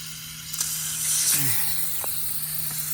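Steady broad hiss of water spraying under pressure from a sprinkler head in a strong stream, fairly close, with a brief voice murmuring and a few faint clicks partway through.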